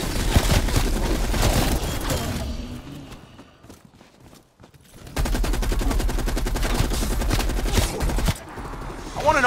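Light machine gun fire in a zombies shooter game pours out in long, loud sustained bursts, broken by a quieter stretch of thuds and movement before the firing resumes.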